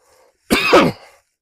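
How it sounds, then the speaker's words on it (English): A single close, loud cough burst with a throat-clearing rasp, lasting about half a second, with near silence before and after. "Oh no, not more coughing."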